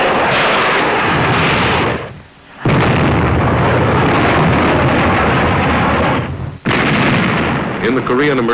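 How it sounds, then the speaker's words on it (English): Naval ship guns fire in shore bombardment with heavy, booming blasts, long rumbling roars that fill the scene, broken by two brief lulls before the next deep concussions, loud and close. "In the Korean emergency, our ship has been put to work in shore bombardment."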